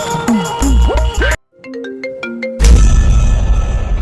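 A phone ringtone plays while a call is being placed: a short melodic run of clear tones sounding alone for about a second, between louder, noisier stretches of background sound.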